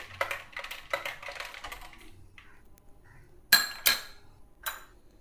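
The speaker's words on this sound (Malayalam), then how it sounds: "ഇനി ഇതൊരു സ്പൂൺ ഉപയോഗിച്ചിട്ട് നന്നായിട്ട് മിക്സ് ചെയ്ത് കൊടുക്കാം" A spoon stirs watermelon juice in a glass, with rapid light clinks and scrapes followed by a few louder, sharper knocks against the rim, close and clear with no talking.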